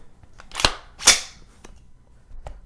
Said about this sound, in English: pull the trigger, it'll fire. After it fires, the bolt will go back.